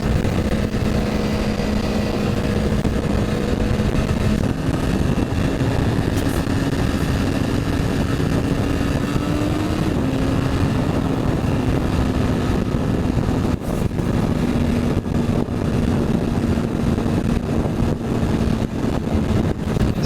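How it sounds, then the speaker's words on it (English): An MV Agusta motorcycle engine runs steadily and loud on a group ride, with a continuous sustained drone and slight pitch shifts throughout, alone with no talk. "that MV Gusta sounds fucking amazing"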